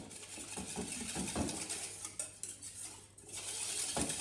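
A flat whisk mixing a starch slurry for an Asian stir-fry, quick rhythmic metallic scraping and clinking against a bowl, close and fairly quiet, with a brief pause before the whisking resumes.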